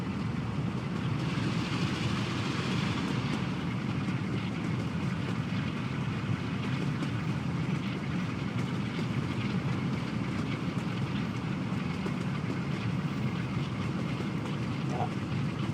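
Train running in the video game Train Sim World 6: a steady, loud rumble of wheels and engine rolls on continuously, with faint rail clatter and wind noise and no talking.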